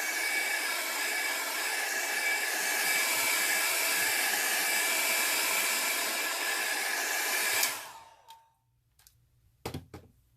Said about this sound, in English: I think I'll use my blow dryer in between just to dry it